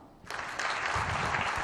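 Applause from a hotel ballroom audience at a business roadshow, a dense burst of many hands clapping that starts abruptly and holds steady and fairly loud for under two seconds.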